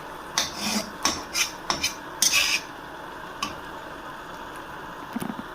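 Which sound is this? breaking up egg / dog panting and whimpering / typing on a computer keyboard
breaking up egg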